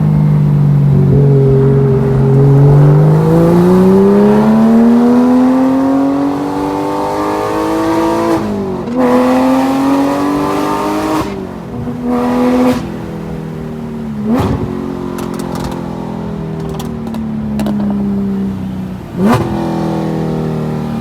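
A naturally aspirated Porsche 911 GT3 with headers screams up toward 9,000 rpm through the gears, a loud close wail climbing in pitch, broken by sharp shift gaps and repeated rising pulls.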